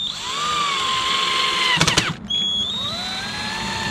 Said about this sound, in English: all we now need is 4 P4 screws through from the side to fix that in place